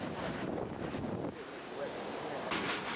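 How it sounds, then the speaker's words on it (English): Hurricane-force wind roars and gusts across the microphone in a loud, unbroken rush, easing briefly midway before surging again. "There's Joe's shed blowing in the wind."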